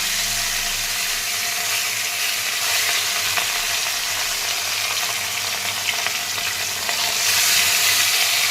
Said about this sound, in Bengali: তেলটা গরম হয়ে গেছে, এবারে একে একে আমি মাছটা দিয়ে দেব